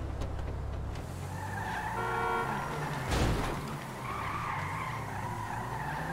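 A car in the game GTA V drives and skids, its engine humming steadily under a long, loud tire squeal near the middle, with no talk.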